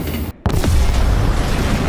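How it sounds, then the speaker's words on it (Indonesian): A car blows up in a film scene, giving a loud, heavy boom after a brief drop-out, followed by a sustained roaring rumble of blast and flying debris. "Mobil dari Anders meledak"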